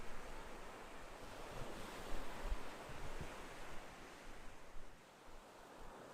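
Ocean waves ambience used as background sound, a steady wash of surf and wind noise rolling continuously at low level with no voices.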